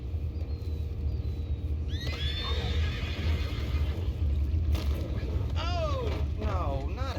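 In the video game Red Dead Redemption 2, a horse whinnies sharply partway through, followed by a second rising-and-falling neigh, over a steady low rumble with faint talk in the background.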